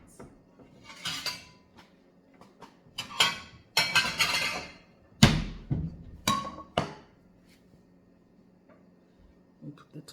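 Plates and dishes clatter in a home kitchen during beef stew preparation: scattered sharp ceramic clinks and knocks, some in quick clusters, one heavy thunk midway, with quiet gaps in between.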